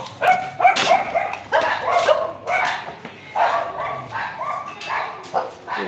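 Several small dogs, Shih Tzu and Lhasa Apso, bark and yip repeatedly nearby in quick overlapping bursts, with a few whimpers between barks.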